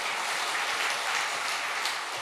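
Steady, dense applause from a church congregation, filling the whole moment with even clapping and no voices on top.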